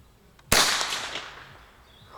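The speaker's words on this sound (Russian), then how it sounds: "Заряжаем и стреляем." A single sharp crack from a .22 LR rifle fired at a bottle, sudden and loud, followed by a fading echo trailing off over about a second and a half; no talking.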